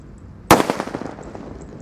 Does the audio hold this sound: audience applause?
no